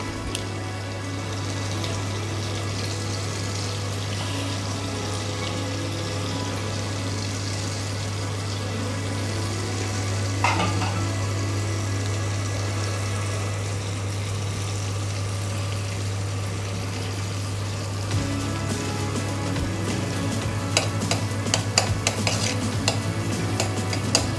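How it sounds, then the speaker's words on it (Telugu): Butter sizzling in a pan while being stirred for paneer butter masala, a steady, even frying hiss with a constant low hum underneath and occasional scraping clicks of the spoon, no talking. "ఓకే అండి, బటర్ వేసేసుకుందాం ఇప్పుడు మనము."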